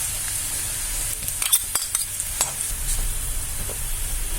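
Sliced red chili frying in hot oil and being stirred in a pan, a steady loud sizzle with a few scraping stirs of a utensil, close and continuous with no talking.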